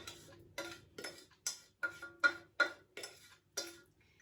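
A spoon mixing butter, sugar, golden syrup and figs in a bowl for fig and hazelnut flapjacks, about nine evenly spaced clinking taps against the bowl, close and fairly quiet.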